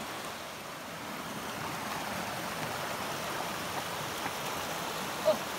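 A creek flowing near an RV resort in Fernie, Canada, a steady soft rushing wash of water heard at moderate distance, even and continuous with no talk.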